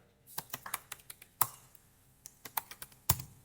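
Commands are typed on a computer keyboard into a terminal: a close, quiet run of irregular key clicks with short pauses and one or two sharper, heavier strikes, with no voices.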